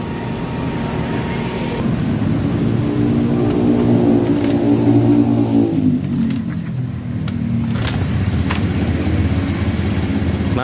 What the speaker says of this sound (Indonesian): Oke, motor masih dalam keadaan hidup ya.